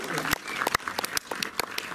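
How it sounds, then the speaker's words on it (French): Scattered applause from a film festival audience for the juries, a few distinct sharp claps spaced irregularly over a quiet room with some background voice. "peut-être qu'on peut à nouveau faire un grand applaudissement pour nos deux jurys"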